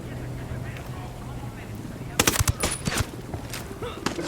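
Burst of automatic gunfire in the tactical shooter Ghost Recon Wildlands, a quick cluster of sharp, loud shots followed by scattered single cracks over a low ambient bed.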